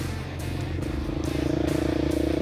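Husqvarna 701 Enduro motorcycle with an aftermarket exhaust, a deep, throbbing single-cylinder thump close by, pulsing steadily and growing slightly stronger.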